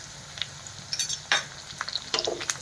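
Ginger garlic paste is sautéed with green chillies and curry leaves in a pan: light, scattered spatula scrapes and clinks over a soft, low sizzle.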